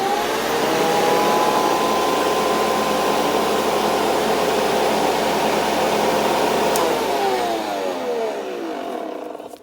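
A Hoover vacuum cleaner runs loud and steady close by, a continuous whining roar whose pitch shifts partway through before the motor begins to wind down near the end.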